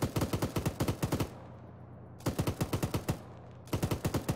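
Bursts of enemy automatic gunfire crack out from a forest in a military video game set in a Moro Islamic Liberation Front operation, three rapid strings of shots separated by short pauses, fairly loud and with no one talking.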